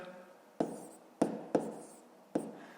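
Pen or pencil writing numbers on paper during a fifth-grade math exercise, four distinct sharp taps and scratches spaced unevenly over a quiet background.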